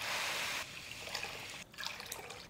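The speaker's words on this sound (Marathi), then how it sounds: "आता यामध्ये आपल्याला घालायचं आहे पाणी." Water poured from close by into sugar in a hot kadai to make gulab jamun syrup, a steady trickling splash that stops briefly and resumes, with no voices.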